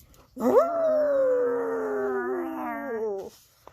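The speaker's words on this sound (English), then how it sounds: "Then from the shopping cart came a uncat-like growl." A dog growls and then howls from inside a shopping cart in a read-aloud Halloween story: one loud, sustained, wavering howl lasting about three seconds, alone and close.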